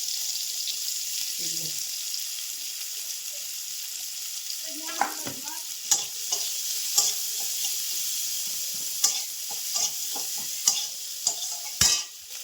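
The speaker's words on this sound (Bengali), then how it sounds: "আমি কিছু পেঁয়াজ ভেজে রেখে দেবো" Onions frying in a pan give a steady soft sizzle, broken by sharp clinks and scrapes of stirring toward the end, close by with no talking.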